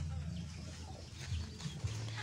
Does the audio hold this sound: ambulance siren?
no